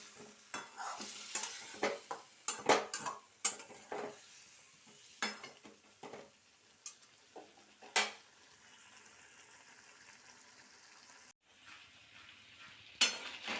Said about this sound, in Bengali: সুন্দর করে এবারে কষিয়ে নিতে হবে